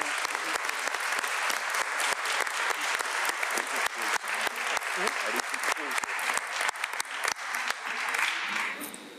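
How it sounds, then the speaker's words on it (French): Applause at a municipal council meeting as members clap together in thanks, a sustained, dense round of clapping with sharp individual claps standing out, continuing for several seconds with a few voices faintly underneath. "Je pense même qu'on peut peut-être l'applaudir tous ensemble."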